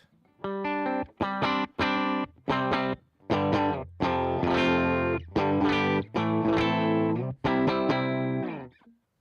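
Clean electric guitar tone from an amp modeler with an XR cab, played as a series of strummed chords and short phrases with brief gaps between them, loud and close with no voices.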